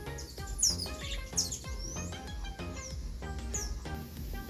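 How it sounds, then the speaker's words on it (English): Several birds chirp and call from garden foliage, including bamboo and a pui tree, with a busy overlapping mix of bright tweets and whistles, some near and some farther off, continuing throughout with no talking. "There are other birds in the foliage across there in the bamboo, and even on the pui tree here"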